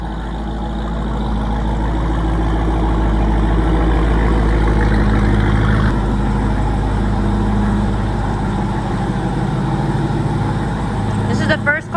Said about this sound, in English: Kevin's parking his truck in here right now.